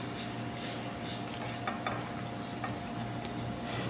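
Onion and garlic sautéing in a pan, a steady, dense sizzle with occasional faint spoon scrapes and clicks as they are stirred.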